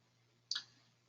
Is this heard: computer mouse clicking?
yes